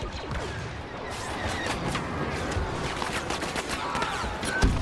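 Dense bursts of rapid blaster and gun fire crackle through a Star Wars Battlefront battle, sounding like continuous overlapping volleys at moderate loudness with no talk over them.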